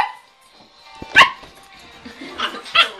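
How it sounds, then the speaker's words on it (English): A pit bull puppy and a wolf hybrid play-fighting, with sharp close barks and yips breaking out in short bursts between growly scuffling noises. "Wolf fights puppy pitbull."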